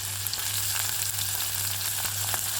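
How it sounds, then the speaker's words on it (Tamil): Chopped tomatoes dropped into a hot frying pan over an onion, ginger and garlic base for beetroot fry, sizzling and crackling loudly and steadily up close, with no talking. "சாப் பண்ணி வச்சுருக்கிற தக்காளி போட்டுடலாம்."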